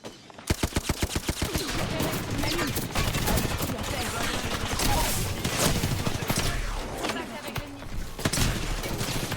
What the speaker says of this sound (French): Je tire sur les ennemis.